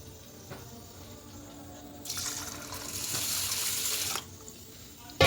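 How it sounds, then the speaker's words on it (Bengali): Tap water runs steadily into a pot of washed rice for chicken biryani, a rushing splash lasting about two seconds in a quiet kitchen before cutting off. "এবার চালের মধ্যে জল দিয়ে দেবো।"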